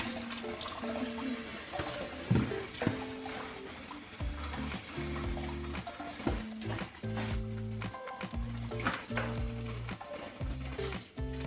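Peeled shrimp being washed in vinegar and water, with water splashing and sloshing and tap water running, punctuated by clattering bowl or utensil knocks, all close by and without talk.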